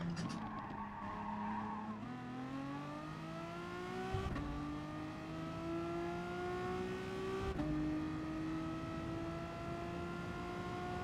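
Race car engines hum and climb through gears during a Gran Turismo Sport race, steady rising tones broken by a few shifts, with tires squealing faintly at moments and no talking.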